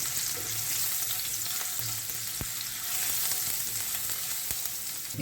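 Finely chopped ginger and garlic frying in hot oil in a pan, a steady bright sizzle throughout with a couple of soft stirring clicks, close and unbroken, no voices.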